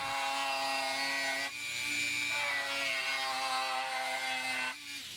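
A Dremel 575 right-angle attachment drives a wood cutting disc through wood, giving a loud, steady high-pitched whine with a brief dip midway and a drop in pitch near the end, with no voices.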